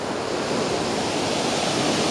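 Sea waves breaking and washing on the shingle of Chesil Beach in November, a steady loud roar of surf with some wind noise, continuous throughout with no voices.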